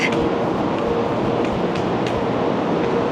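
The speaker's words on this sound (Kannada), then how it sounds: "ಓಹ್ ಟ್ರೈನ್ ಬಂದ್ಬಿಟ್ಟಿದೆ" A bullet train rumbles into a station platform in Taiwan during a typhoon, with a steady broad roar and faint rail squeals, loud and continuous, no voices standing out.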